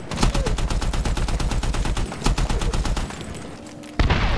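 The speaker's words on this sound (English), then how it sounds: "Best sounding gun ever invented." A gun in the video game Medal of Honor 2010 fires loud, rapid automatic bursts, a dense run of evenly spaced shots, a short pause, then another burst and a final sharp crack, close and dominant.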